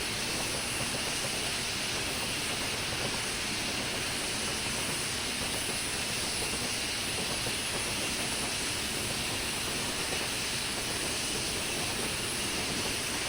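A steam locomotive on the Western Lines of Scotland in a train simulator game gives a steady, loud, broadband hiss of steam and brakes that holds unbroken throughout over a low running rumble.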